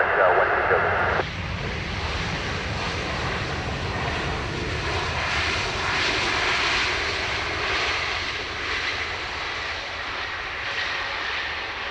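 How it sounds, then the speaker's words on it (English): An airliner's engines roar in reverse thrust after landing at Dublin Airport, a loud, steady rushing drone that holds for the whole stretch, with air traffic radio talk over it. "Reverse noise is loud and clear."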